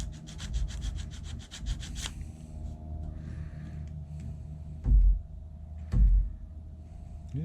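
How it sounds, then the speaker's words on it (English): Sandpaper rubbing over a JB Weld patch on a wooden push pole, quick rhythmic strokes at first, then slower scraping with two heavy knocks, close and fairly quiet. "I can just kind of finish sanding that JB weld area down nice and smooth."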